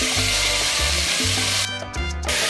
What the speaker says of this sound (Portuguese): Agora vamos retornar o bacon, a calabresa e a alcatra para a panela.